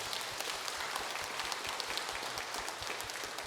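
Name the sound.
congregation applauding during church sermon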